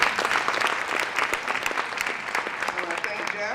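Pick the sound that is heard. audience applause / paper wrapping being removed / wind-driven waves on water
audience applause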